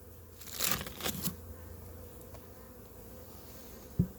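A very large captured honeybee swarm gives a couple of brief, close buzzing passes early on, followed by a quieter steady hum and one soft knock near the end.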